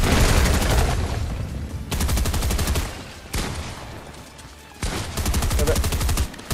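Bursts of automatic gunfire in the Fortnite video game, several dense rapid volleys separated by short pauses, loud and close, with no talking over them.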